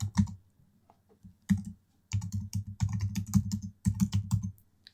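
An email address being typed on a computer keyboard, heard as close, crisp key clicks in short bursts with brief pauses between them.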